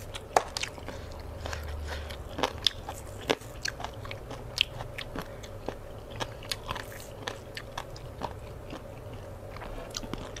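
Someone eats Thai papaya salad (som tam) by hand, with faint, close crunchy bites and wet chewing clicks coming in an irregular rhythm throughout, no talking.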